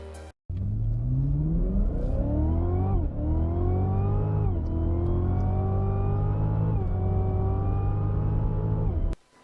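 A Cadillac CTS-V's 6.4-liter V8 revs loud and close, climbing through several rising pulls with brief dips between them before cutting off abruptly.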